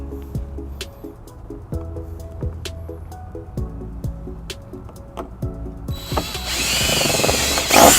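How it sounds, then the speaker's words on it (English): A power drill boring holes in the body of a 2014 Kia Soul for trailer wiring installation, a rising whine after a stretch of quiet ticking and tool handling, close and loud toward the end. "All right, we got our holes drilled."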